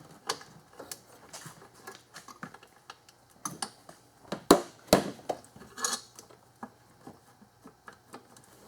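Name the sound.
socket wrench removing a 12 mm bolt from intake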